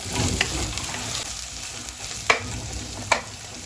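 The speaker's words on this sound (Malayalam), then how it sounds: "മുരിങ്ങാക്കായി ഇട്ടുകൊണ്ട് അങ്ങോട്ട് നന്നായിട്ട് വഴറ്റുക" Drumsticks (moringa pods) sautéing in a pan for a Kerala-style king fish curry, a steady close sizzle broken by a few sharp stirring scrapes and clacks of the spoon.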